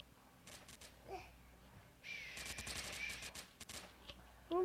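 Bursts of rapid video game gunfire crackle from a shooter called Bullet Party, a short volley early on and then a longer sustained stretch of automatic fire, moderately loud over quiet background.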